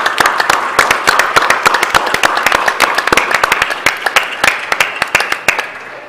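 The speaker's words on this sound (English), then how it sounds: "So a good round of applause for everybody who's really contributed to this." Applause at an infrastructure resilience event: loud, crisp, close-sounding hand claps, many overlapping at first and thinning into scattered individual claps before fading.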